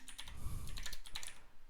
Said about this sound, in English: then just type in pip install Google Gen AI